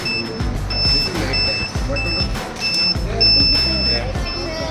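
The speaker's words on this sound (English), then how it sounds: "if it detects anything, the buzzer will go off." An electronic buzzer wired to an IR sensor in a student robotics project sounds repeated high pitched beeps in an uneven on-off rhythm over a busy room, with people talking nearby.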